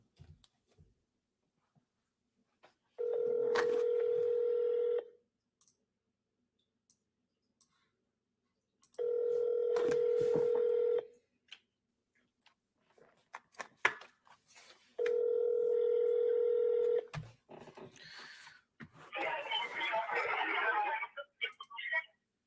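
A telephone dials out and rings on the line in three long, evenly spaced tones, loud and near, with faint clicks between them and a burst of noisy pickup at the end.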